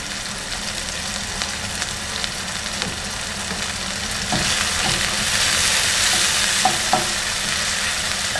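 Eggs frying on a stove at breakfast give a dense, steady sizzle close by; the hiss grows louder partway through, with a few faint clicks.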